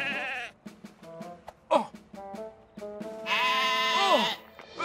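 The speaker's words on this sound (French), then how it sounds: "On a rassemblé le troupeau de moutons." A flock of cartoon sheep bleats in a quick run of close, wavering cries, with a voice calling out among them and a long, loud bleat near the end.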